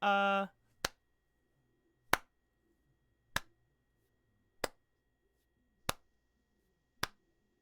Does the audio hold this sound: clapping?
yes